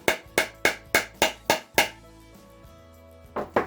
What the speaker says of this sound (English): you just gotta take a hammer and lightly tap it.